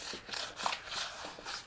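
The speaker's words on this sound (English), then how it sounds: "Now I'm sanding down with, this is a well-used 120 sanding pad." Small wooden rocker being hand-sanded with a well-used 120-grit sanding pad, soft rhythmic back-and-forth rasping strokes, close and quiet, about five passes with no talk.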